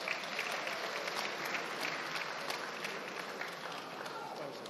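Applause ripples through an audience at a political stakeholders meeting, a steady, dense wash of clapping that holds evenly throughout with voices mixed in.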